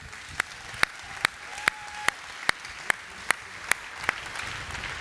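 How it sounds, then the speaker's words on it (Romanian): An audience applauds at a Christmas carol concert in Arad, a moderate crowd wash punctuated by sharp, evenly spaced claps that keep a steady beat throughout. "Haideți să-i aplaudăm!"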